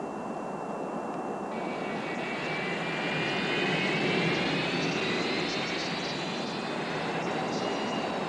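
Airliner cabin at a cruising altitude of 31,000 feet in a 1988 TV commercial, a steady broadband jet engine roar with a faint high whine, constant throughout at moderate level with no talking.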